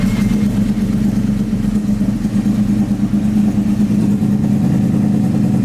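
A cold Yamaha motorcycle, a 2017 R6, settles into a loud, steady idle close by, with a deep, even, throbbing engine hum and no voices.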